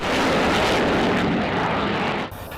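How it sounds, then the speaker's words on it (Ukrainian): A French Mirage 2000 multirole fighter jet roars loudly and steadily with broadband engine noise, then the sound drops off sharply near the end. "Мова про багатоцільові французькі винищувачі Міраж 2005"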